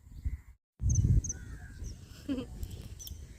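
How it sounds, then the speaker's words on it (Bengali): Crows call beside a Sundarbans riverbank near a fish-drying spot, giving a few short, scattered caws at moderate distance over a low, rumbling outdoor background with a brief dropout early on. "এই কাকেরা দেখো এদের বিরাম নেই"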